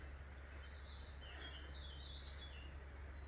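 Birds chirp and trill in a forest beside a bay, a run of bright calls in quick bursts over a quiet, constant low hum, all faint and somewhat distant.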